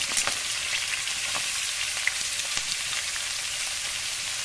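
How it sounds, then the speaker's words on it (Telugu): Chopped onions frying in a hot pan for a chicken fry, giving a steady, close, even sizzle with faint crackles and no talking. "కలర్ వచ్చేంత వరకు బాగా వేయించుకుంటాను."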